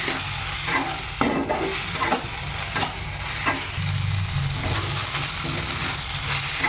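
Chicken mince is stirred and dried out in a pan, a loud continuous sizzle broken by repeated scraping stirs of a spoon against the pan, close and rhythmic with no talking.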